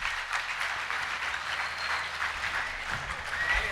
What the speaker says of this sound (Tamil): ஒரு பலத்த கைத்தட்டலோடு பாராட்டி அழைக்கிறது